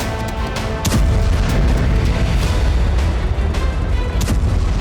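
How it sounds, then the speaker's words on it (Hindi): Heavy FAB 500 bombs detonate on Ukrainian army positions in the Russia-Ukraine war, heard as a dense, loud rumbling roar with a sharp blast near the start and another burst toward the end. "यूक्रेनी सेना के मोर्चों को तबाह करने के लिए FAB 500 बम का इस्तेमाल किया जा रहा है।"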